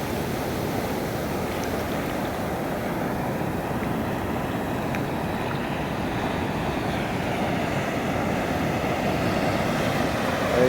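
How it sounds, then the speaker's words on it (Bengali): Big waves break and rush ashore at Cox's Bazar beach, producing a steady, loud low roar of surf with wind, continuous and without voices. "এই যে বিশাল একটি ঢেউ এগিয়ে আসলো।"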